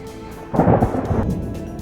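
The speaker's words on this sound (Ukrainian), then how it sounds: "А зараз що за вікном? Грім, блискавка." Thunder in a thunderstorm, a loud low rumble bursting in and rolling for under a second before easing into a steady rain-like hiss.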